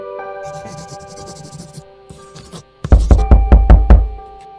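A pause of faint tonal background, then a rapid run of about six loud knocks on a door, close and insistent, ending in quiet.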